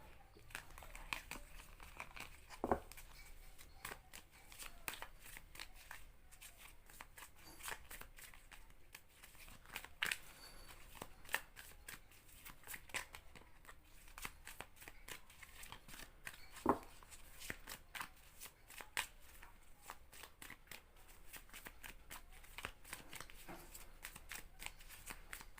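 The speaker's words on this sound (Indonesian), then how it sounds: "kartunya kecampur" Tarot cards shuffled by hand in a quiet room, a soft, continuous run of riffling and sliding card flicks at close range, faint throughout and with no voices.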